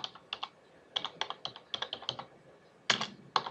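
Quick bursts of keystrokes on a computer keyboard as a place-name search is typed, light clicking taps in uneven clusters, close and fairly quiet with no talking.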